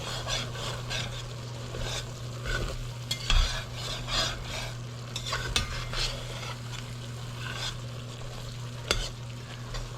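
A metal spoon stirs mushroom soup in a pot, with a steady low hum and faint simmer under repeated scraping strokes against the pot, some sharper clinks standing out.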